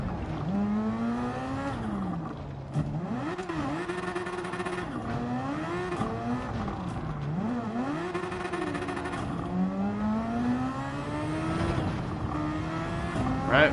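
Race car in Gran Turismo 7 during Super Championship free practice, engine revving up and down repeatedly in long sweeping pulls as the car weaves to warm its tires, loud and continuous with faint tire noise.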